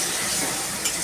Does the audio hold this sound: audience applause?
no